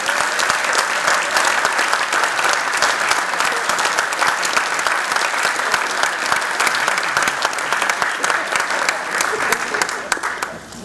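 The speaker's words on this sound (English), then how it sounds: "So give them one more round of applause" Sustained applause from a banquet crowd honoring community mentors at a 2014 community awards dinner in Carpinteria, dense steady clapping for about ten seconds before tapering off at the end.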